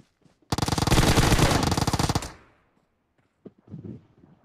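A long burst of rapid automatic gunfire sounds in PUBG Mobile, loud and close, lasting under two seconds. It fades out, and then come a few faint thuds and a short muffled sound.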